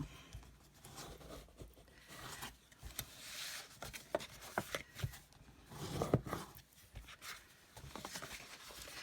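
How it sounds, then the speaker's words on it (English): Patterned designer paper being folded along score lines and pressed flat with a bone folder, a run of soft rubbing, scraping and crinkling strokes at close range in irregular bursts. "I am now going to fold and burnish all my score lines"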